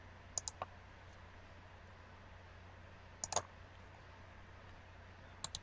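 Three brief bursts of computer mouse clicks, each a quick double or triple click, spread across an otherwise quiet room with a low background hum.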